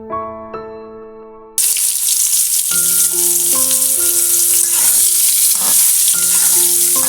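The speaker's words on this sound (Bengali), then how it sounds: "এটা থেকে যখন পাঁচফোড়নের ঘ্রাণটা বের হয়ে আসবে তখন এর ভিতরে আমগুলোকে দিয়ে দিব।" Raw mango pieces with panch phoron spices frying in oil for a mango pickle: a loud, close, crackling sizzle starts suddenly and carries on steadily over gentle background music, with no talking.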